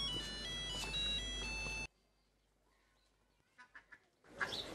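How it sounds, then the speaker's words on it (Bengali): A mobile phone ringtone plays a loud, clear electronic melody indoors for about two seconds, then cuts off abruptly. Faint soft sounds follow before a louder rustle at the end. "আরে এই সময় আবার ফোন করে কেটা?"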